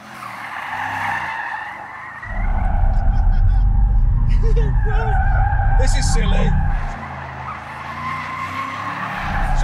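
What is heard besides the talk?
Bentley Continental GT Convertible skidding, tires squealing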